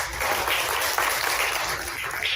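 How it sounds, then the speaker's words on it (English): An assembly audience applauds an education committee member, a steady, fairly dense patter of clapping from a crowd in a large room, holding at even loudness. "please take some applause here real quick"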